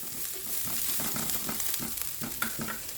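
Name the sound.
garlic sautéing in hot cooking oil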